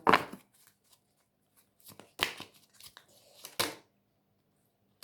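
Tarot cards being drawn and laid down, a few short papery snaps and slides spaced out over a quiet background.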